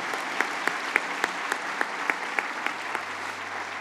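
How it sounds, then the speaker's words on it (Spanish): A church congregation applauding in praise, a steady bed of clapping with a regular pulse of sharper claps roughly every third of a second, moderately close and without talk. "Vamos a dar un aplauso al Señor"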